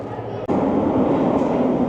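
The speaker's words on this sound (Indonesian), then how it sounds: "Ini kereta apinya cuy." A London Underground train arriving at Waterloo station, a loud steady rumble of the carriages with a brief drop near the start, then continuous rolling noise and faint voices in the background.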